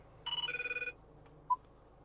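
A telephone ring chimes in a 2011 Range Rover Evoque: one quick burst of rapid, repeated electronic ring pulses, fairly faint against the cabin hush, followed by a single short beep.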